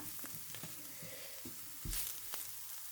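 Chickpea curry masala sizzles and fries in a pan while it is stirred, with a steady hiss and a few scraping clicks from the spoon. One louder scrape lands near the end. No one speaks.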